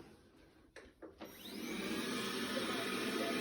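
A household vacuum cleaner switched on after a few faint knocks and clicks, its motor whirring up within a second into a steady, fairly quiet hum.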